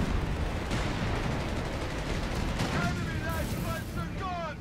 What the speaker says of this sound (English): Fire the cannon from the side.